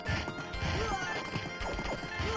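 Horses galloping and rearing in the Knights of the Round arcade game, with clattering hoof beats, sharp impact crashes and rising whinnies layered in a busy, loud burst of game effects.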